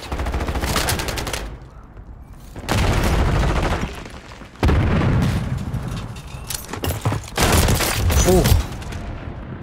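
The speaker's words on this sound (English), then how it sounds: "That was some nasty pistol shots right there." Bursts of rapid gunfire crackle loudly through a multiplayer shooter match, coming in several clustered volleys with short gaps, while a player lets out a brief exclamation.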